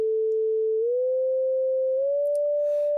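A pure sine tone generated in SuperCollider holds steady, then glides smoothly upward to a slightly higher pitch as lag eases each frequency change, sounding alone and clean apart from a faint hiss near the end.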